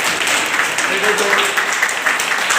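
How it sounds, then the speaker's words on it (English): Applause from a room of nursing students at a personality development session, a dense steady wash of clapping throughout with voices mixed in. "Please clap for the leader."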